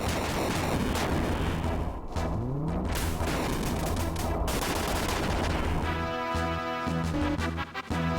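A rapid-firing Vulcan gun in the mech video game Front Mission: Gun Hazard rattles out dense, continuous bursts of shots with crunchy impacts layered over busy game sound, loud and close throughout.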